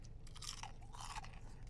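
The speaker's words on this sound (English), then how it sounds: "That little crunch." Crunch of teeth biting into crispy Maryland-style fried chicken thigh, followed by close, loud chewing, with a steady low background hum and no talk.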